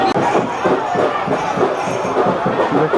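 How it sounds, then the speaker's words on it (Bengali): Dense murmur of a packed crowd of passengers inside a commuter train on the pilgrimage route to Tarakeswar, with many overlapping voices and shouts at a steady, busy level. "তো ট্রেনটার মধ্যে ভিড়টা শুধু দেখো, প্রচুর ভিড় ট্রেনটার মধ্যে।"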